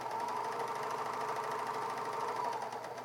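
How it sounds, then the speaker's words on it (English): A Bernina 700D serger stitches down a piece of fabric, its motor whirring in a steady, fast, even hum with a fine rapid needle pulse, loud and close, with no talking. "So just go ahead and stitch down."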